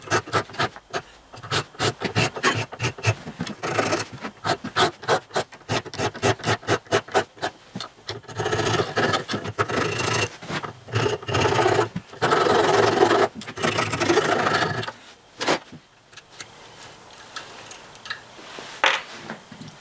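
Hand file rasping a metal oil line part for the rocker oil lines of a Ford 800 tractor, close and fairly loud, in quick irregular strokes that turn into a denser, steady scraping before pausing and resuming.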